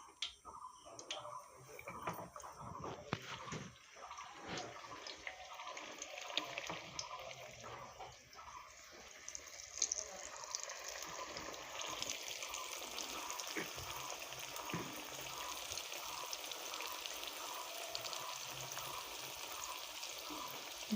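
Layered lachha paratha fries in a pan over medium heat, giving a faint, steady sizzle with soft crackles and ticking pops, quiet and continuous, with a few light handling knocks.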